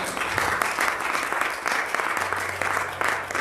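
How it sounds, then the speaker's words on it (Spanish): Church congregation clapping steadily together for several seconds, a dense, continuous applause filling the room at moderate level. "Dale un fuerte aplauso al Señor."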